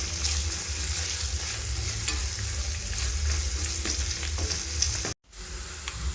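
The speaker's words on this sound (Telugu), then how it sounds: "చూసారా, ఉల్లిపాయలు బాగా ఫ్రై అయిపోయాయి." Onions with mint, curry leaves and coriander frying in a pan for an Andhra chicken drumstick curry, a steady close sizzle with scraping stirring strokes, cutting out briefly near the end.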